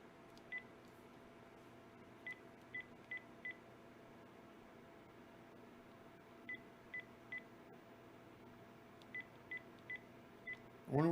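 Telephone keypad dialing tones, a series of short separate beeps in small clusters at a moderate level over faint background hum, ending in a sudden louder burst.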